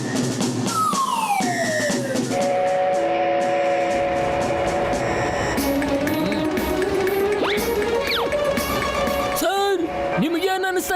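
A cartoon train rushes along with rising and falling whistle tones and siren-like glides over a constant rumbling run, loud and busy, with voices and effects mixed in.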